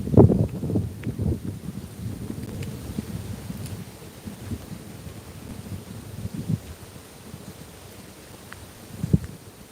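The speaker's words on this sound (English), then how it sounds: "in this very, very windy live streaming." Gusty wind roars against the microphone outdoors in a forest, loud at first then easing into a steady rumbling buffet with occasional stronger gusts.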